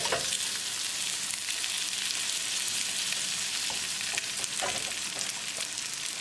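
Atlantic salmon pan-fries in butter with a steady, bright sizzle and crackle that holds at an even level, with a few small pops and scrapes and no voices.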